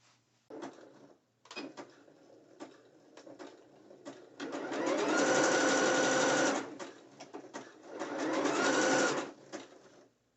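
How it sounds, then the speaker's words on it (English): A sewing machine stitches net bikini fabric with braided elastic, nearby and loud, in two long steady whirring runs broken by short starts, stops and handling clicks. "So we're gonna stitch right here."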